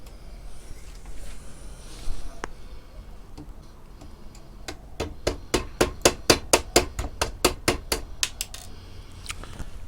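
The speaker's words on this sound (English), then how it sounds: "tap it with a hammer, I might be able to loosen it" A hammer taps a rusty, crusty part of an old STC farm radio, a few scattered knocks at first and then a quick run of sharp metallic taps, close and moderately loud.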